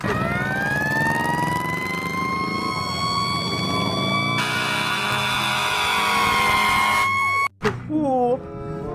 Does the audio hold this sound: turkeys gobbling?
no